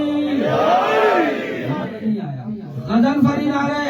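A crowd at a religious celebration shouts the Shia slogan Naara-e-Haidari in loud, rising unison, with swelling voices and a brief dip before a second surge.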